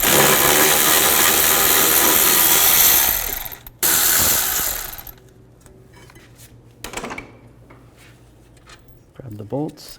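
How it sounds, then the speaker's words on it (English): A 14mm socket ratchet loosens the caliper bracket bolts on the rear brakes of a Hyundai Tucson, producing a loud continuous clicking that stops abruptly, then a brief burst, then quieter clinks and handling noises. "Now I'm going to use a 14mm socket and take these two caliper bracket bolts out."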